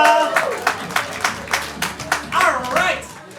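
An audience claps after a student improv comedy scene, scattered hand claps building into a short burst of applause, with a voice speaking over part of it.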